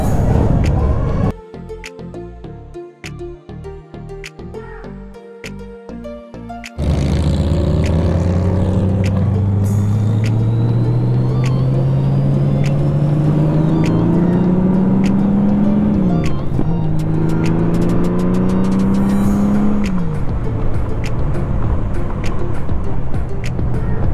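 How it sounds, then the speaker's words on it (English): A Honda Goldwing GL1500 motorcycle sits in road traffic, first a choppy idle, then a loud engine that revs up in long rising sweeps and drops back, with traffic sounds around it. "And we're stuck in traffic."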